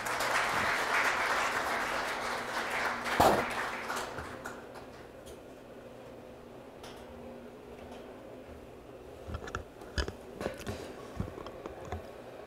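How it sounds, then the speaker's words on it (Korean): Applause from a forum audience at the Asia Times ABC2020 event, a broad crowd wash that is strongest at the start, tapers into a quieter room, and carries a few sharp isolated claps near the end. "이럴 때 박수가 좀 필요합니다."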